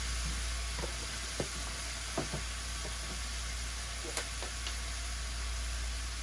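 Beef browning in a pan, heard as a steady low sizzling hiss throughout, with a few faint knocks and clicks of a utensil against the pan.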